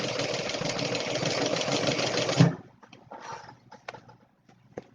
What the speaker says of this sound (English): I'm going to sew a little bit and then check my tension just to make sure my foot is good that I put on.